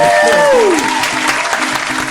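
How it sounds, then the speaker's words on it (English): A small group applauds a guest at the end of a fan podcast show, brief clapping that starts loud under a falling tonal sweep and carries on evenly to the end, with a voice speaking over it. "Round of applause"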